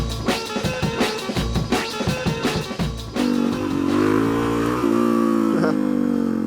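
Suzuki DRZ400SM single-cylinder dual-sport motorcycle being ridden, its engine loud and close, with choppy revving bursts giving way to a steady, sustained higher-pitched drone as it accelerates.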